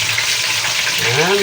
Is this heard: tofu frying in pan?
yes